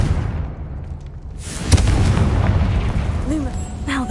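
A Confringo blasting spell from a Harry Potter video game detonates in a sharp boom, followed by a rumbling burst and debris noise that fades over a few seconds.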